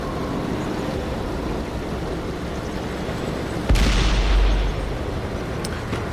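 A T28 tank's gun fires once in World of Tanks, a single heavy boom midway through that rings out over steady engine rumble. Nobody speaks.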